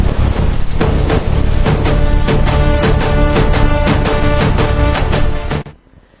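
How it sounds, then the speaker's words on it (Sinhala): A ritual drum beaten faster and faster by a Sri Lankan exorcist during a night-time demon-chasing ceremony: loud, close, rapid regular strikes in a dense driving pattern that cut off abruptly near the end. "ගුරුනාන්සේ බෙරේ ගහන වේගය වැඩි කළා."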